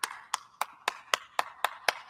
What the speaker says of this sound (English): people started clapping